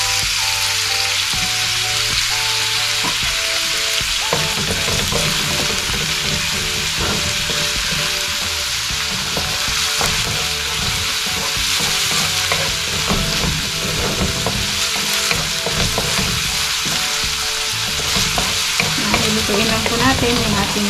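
Chopped onion and finely cut ginger fry in a hot pan for a sautéed vegetable dish, giving a steady, loud sizzle with bursts of stirring throughout and no talking.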